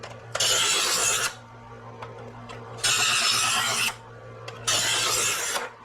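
A dull kitchen knife is drawn through a sharpener three times while an initial edge is set, each rasping stroke lasting about a second, loud and close, with a steady low hum underneath between strokes.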